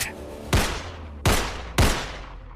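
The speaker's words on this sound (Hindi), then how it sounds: "जंगल में एक के बाद एक 3 गोली चलने की आवाज आई।" Three sharp gunshots ring out in a jungle as an audio drama effect, spaced about a second apart, each a loud crack that fades into a reverberant decay over a low ambient bed.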